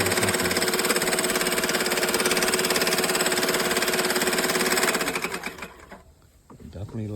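Sun Joe cordless 15-inch push reel lawn mower motor running loud and steady with a dense mechanical whir, then winding down and cutting off near the end.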